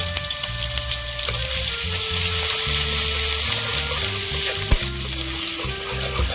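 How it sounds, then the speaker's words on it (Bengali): Chopped ginger frying in oil in a kadai, a loud continuous close sizzle with stirring and a steady low hum underneath, one brief knock near the end, no voices. "তেলের মধ্যে আমি আদা কুচি দিয়ে দেবো"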